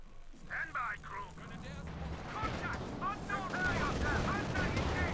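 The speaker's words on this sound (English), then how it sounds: "Katyusha on the way there for Renegade." Katyusha rocket artillery firing in the World War II strategy game Company of Heroes 2: a dense rolling barrage of launches and whooshing rockets that builds steadily, with people talking over it.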